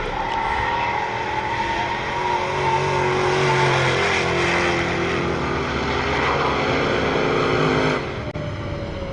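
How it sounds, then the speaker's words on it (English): A drift car at the Three Sisters circuit in a British Drift Championships Pro 2 round drives away after completing its lap, its engine roaring loudly and revving up before the sound drops off sharply near the end. "Max Fletney drives away, completes his lap."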